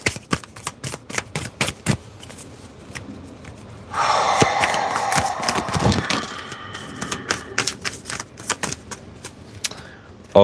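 Tarot cards are shuffled by hand in a run of crisp riffles and taps, with a denser rustling burst in the middle and no talking.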